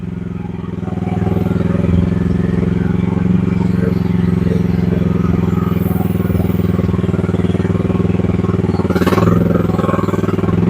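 A Chinese gasoline one-ton mini excavator runs at a steady, loud engine chug with rhythmic clatter, continuous throughout, faint hydraulic shifts while the operator makes multiple movements.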